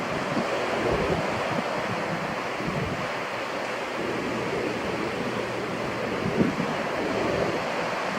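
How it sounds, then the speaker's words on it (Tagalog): Steady wind buffets a microphone at a beach, a continuous broadband roar with low rumbling gusts and the wash of surf underneath, constant and fairly loud throughout with no talking. "medyo mahangin."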